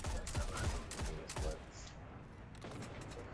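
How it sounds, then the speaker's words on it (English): Hand cannon shots in the video game Destiny come as several sharp, loud cracks in quick succession early on, followed by quieter background game sounds. "don't try to hand cannon me from that far away"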